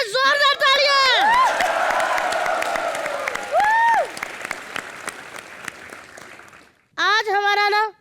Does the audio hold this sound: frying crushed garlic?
no